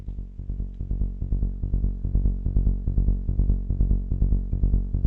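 A psytrance bass synth patch built in Wavetable pulses in a fast, even stream of short repeated notes, with a thick, buzzy low tone that is loud and dry, with no voices.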